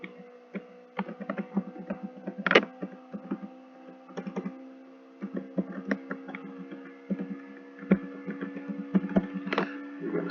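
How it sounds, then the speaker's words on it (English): Soft, quick keystrokes on a keyboard during a VR Quest tutorial, an uneven patter of close, light clicks with brief pauses, running steadily throughout. "we're going to type something in"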